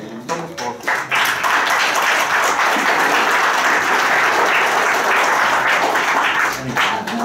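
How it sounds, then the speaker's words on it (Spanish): A crowd at a Catholic wedding ceremony breaks into loud, dense applause that swells quickly and holds steady for several seconds before tapering, with a brief voice at the start. "le damos un fuerte aplauso"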